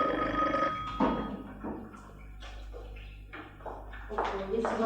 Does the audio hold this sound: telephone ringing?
yes